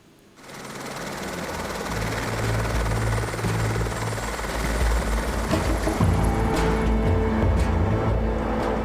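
A helicopter flying over an Alpine glacier drones steadily nearby, its rotor thrum and engine whine holding loud and constant throughout with no voices.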